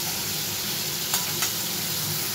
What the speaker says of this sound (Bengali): এই চিংড়ি মাছটা একটু ভেজে নিই, ভালো করে একটু লাল করে ভেজে নেব